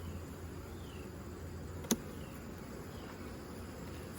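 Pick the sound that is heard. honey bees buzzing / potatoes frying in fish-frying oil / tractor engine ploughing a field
honey bees buzzing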